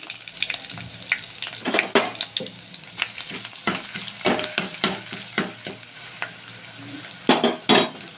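Curry leaves, ginger-garlic paste and coconut spit in hot oil as a tempering for urad dal amti. The sizzle is steady and close, with sharp bursts of crackling and repeated spatula clinks and scrapes against the pan.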